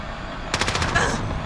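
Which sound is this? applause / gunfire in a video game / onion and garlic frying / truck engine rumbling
gunfire in a video game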